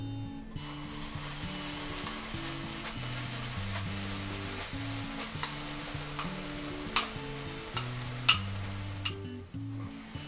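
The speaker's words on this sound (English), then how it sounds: "So this paste I'm now going to add into this pan" A cooked paste of onion, ginger, green chili and pomegranate seed goes into a pan and sizzles softly under quiet background music, with occasional scraping and tapping from a spoon and no one talking.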